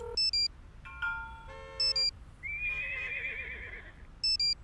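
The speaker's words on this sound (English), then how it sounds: "Horse for sure." A horse neighs as a sound effect in a guessing game, a clear rising then quavering whinny set between short electronic beeps, heard alone and not masked.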